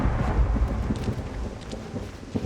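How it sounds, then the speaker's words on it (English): Loud thunder in a video game rolls and rumbles with deep booming cracks over rain-like hiss, continuous and heavy for a couple of seconds with no talking. "that thunder's insanely loud"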